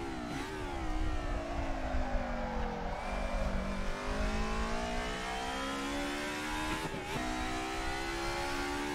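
A race car in the video game Assetto Corsa drones at high revs, its engine pitch sliding down and then snapping up again with each gearbox shift, loud and continuous throughout.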